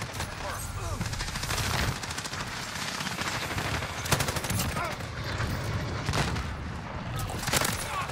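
Rapid light machine gun fire and scattered shots fill a Modern Warfare match using the Bruen MK9. The firing is dense and continuous, with bursts that overlap, and players talk over it.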